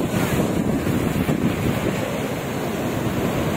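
Strong sea waves crash and churn against a pier in Odessa, a continuous loud roar of surf and foaming water with heavy wind buffeting the microphone throughout.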